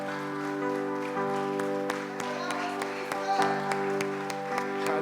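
A worship congregation claps along in a steady rhythm, the sharp hand claps layered over sustained music that fills the space throughout.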